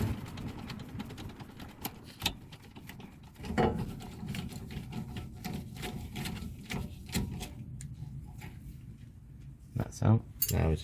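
Metal clinks and scrapes of a spanner holding a spinning rear brake bolt on a VW Polo while it is worked loose, with irregular close taps under ongoing talk.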